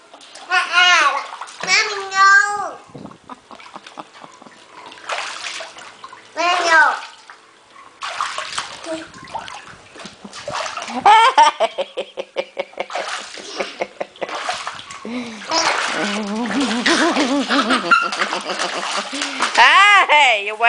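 Water splashing around children playing in a pool, close and loud in irregular bursts, with a voice and shouting throughout.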